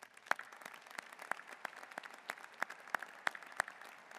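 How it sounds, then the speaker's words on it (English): Applause for military graduates at a university undergraduate commencement ceremony, with distinct individual claps ringing out in a steady rhythm across a large hall, fairly faint and distant, with no talk over it. "Please join me in a round of applause for these graduates."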